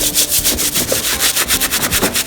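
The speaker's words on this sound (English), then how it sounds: "dipping the brush, kind of wiping it on the soap." Stiff scrub brush rubbed back and forth over a bar of soap while cleaning sneakers, a steady rhythmic scratchy swishing at close range with no voices.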